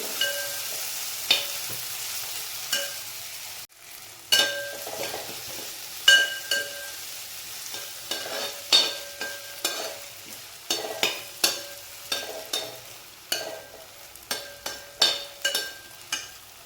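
Tomatoes frying in a pan for a chickpea masala, giving a soft steady sizzle broken by a regular series of close scraping stirs and light clinks of the spoon against the pan.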